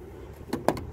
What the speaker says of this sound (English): You'll hear the actuator go, and now your door is locked.